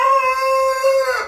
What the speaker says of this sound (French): il est composé de 3 poules Faux Verminet noir, un coq Faux Verminet bleu et un coq Faux Verminet noir